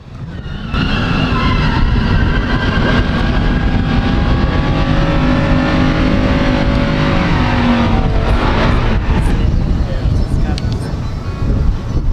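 A 1970 Road Runner 426 Hemi and a 1967 Plymouth GTX 426 Hemi, both pure stock, run side by side on a drag strip. Engines roar loudly throughout with rising revs and a shift near the end. Voices are heard over the noise.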